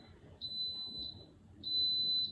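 A pressure cooker gives two long, steady high-pitched electronic beeps close by, each lasting under a second with a short gap between them, over a quiet room.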